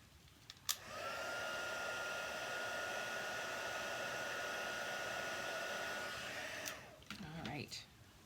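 A heat tool for crafts blows over a colouring project, a steady whirring, airy hum switched on after a click and running for about six seconds before it is switched off, with small handling sounds at each end.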